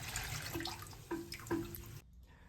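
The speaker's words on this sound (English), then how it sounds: "just pour what you've collected out the pumps down the sink" Collected water and beer line cleaning fluid splashes and trickles into a sink, with a few short ringing drips, then the pouring stops abruptly near the end.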